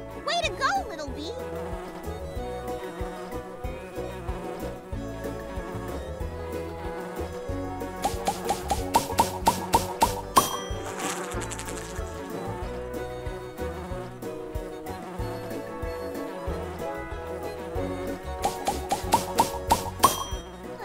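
Cartoon bumblebee buzzing in the Nature Cat pollinator video game, a steady insect drone running under bright, busy game music with sparkly chimes, with voices talking at times.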